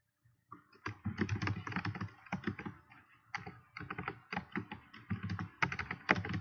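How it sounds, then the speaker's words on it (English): Steady typing on a computer keyboard, close and clear, with bursts of rapid key clicks separated by short pauses and no voice over them. "I am typing, so that's why if you hear me pausing"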